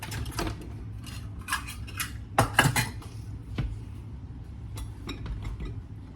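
Two cups of flour are measured into a medium mixing bowl for pancakes, with clinks and taps of a measuring cup and utensil against the bowl, a sharp cluster of knocks midway and soft scraping between them.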